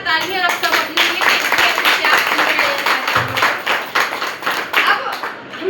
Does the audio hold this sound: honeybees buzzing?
no